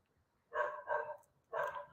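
A dog barks three times in quick succession, two close together and then one more after a short pause, fairly near and on its own with no talk.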